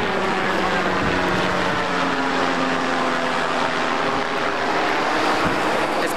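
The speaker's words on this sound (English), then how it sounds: "Here comes a helicopter." Steady, loud droning engine roar of a helicopter passing overhead, continuous throughout with no pauses or voices.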